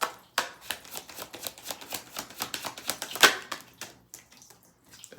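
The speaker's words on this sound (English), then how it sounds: "Let's get a few more cards out here." Tarot cards drawn from a deck and set down on a table during a reading: a run of quick, crisp slaps and shuffles, fairly close and steady, with one sharper snap midway and no voices.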